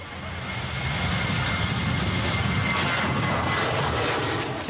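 Steady airliner engine roar inside the cabin shortly after takeoff, a constant broad rushing drone throughout.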